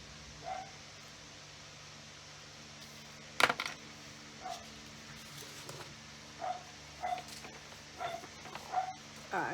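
A dog barks repeatedly in short, faint bursts in the background of a home crafting session, with one sharper clatter partway through.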